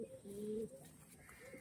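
Fancy pigeons with lightly fanned tails give a faint, low cooing phrase near the start, followed by quieter background murmur.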